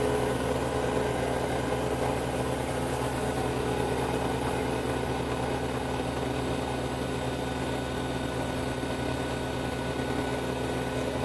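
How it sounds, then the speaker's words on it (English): A Harvest Right Version 6 freeze dryer's vacuum pump runs steadily throughout, a constant droning hum with mechanical vibration and no talk. The batch being freeze-dried is Lemonheads candy. "There's the vacuum pump."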